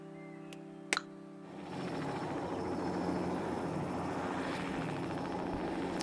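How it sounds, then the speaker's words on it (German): A helicopter arrives in the zoo management video game Let's Build a Zoo, its rotor wash building into a loud, steady whooshing roar after a brief click and a couple of faint tones, with no talk. "Vor allem komme ich mit dem Helikopter."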